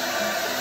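A hair dryer blows on wet glue, a brief steady whooshing whine that is loud and close for under a second.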